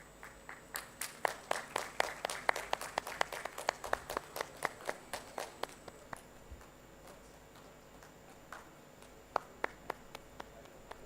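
Audience applause at the Odisha Tex 2025 launch event in Bhubaneswar, a lively burst of many hands clapping that thins after about six seconds into scattered claps, with a brief renewed flurry near the end.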